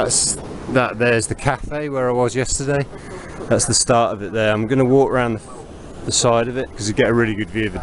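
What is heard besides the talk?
No everyday noise stands out behind the speech.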